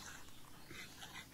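A dog makes soft, whimpering yips that come and go close by in a busy, noisy setting, with no clear speech over them.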